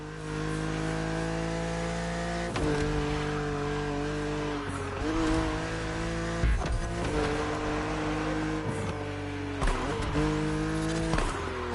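BMW Z roadster racing in The Crew Motorfest, the engine droning loud and close with several rising revs and gear shifts, brief tire squeals and sharp transients between them.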